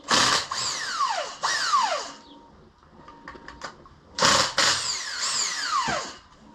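A power tool whirs in short loud bursts, two spins, a pause with light clicks and rattles, then two more bursts, while bolts come off the shifter of a 2002 Acura RSX Type S.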